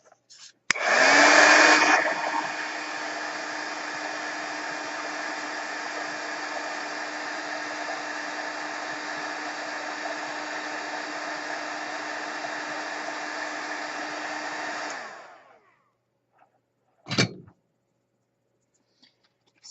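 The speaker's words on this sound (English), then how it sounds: "hit that with a heat tool." Heat tool blowing hot air at close range, a steady loud whoosh lasting about fourteen seconds before cutting off, then a single sharp click afterward.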